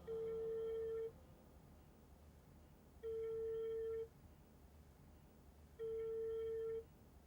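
A telephone rings unanswered in a quiet room: three long electronic ring tones about a second each, spaced evenly a couple of seconds apart, clear and alone.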